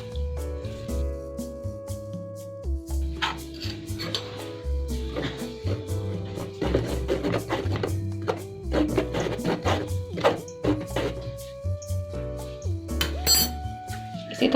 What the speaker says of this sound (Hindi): इसी तरह से थोड़ा थोड़ा करके हम ड्राई इंग्रेडिएंट्स डालते रहेंगे और इसे मिक्स करेंगे आराम आराम से।